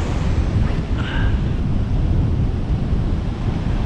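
Rough ocean surf pounds a beach on Montauk's South Shore, with a constant heavy roar of breaking waves and buffeting wind noise on the microphone, loud and unbroken.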